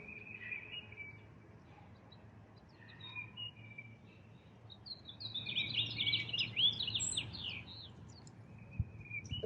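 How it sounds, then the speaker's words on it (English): Faint birdsong drifts in from a distance, a few scattered chirps at first, then a busier run of quick twittering notes over a quiet outdoor hush. "You'll probably notice sounds of nature, such as birds or animals."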